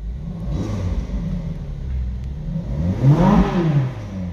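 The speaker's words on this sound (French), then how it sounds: "je mets le contact" Iveco vehicle engine turning over and catching after the ignition is switched on, a steady rumble that swells into a louder rising rev near the end.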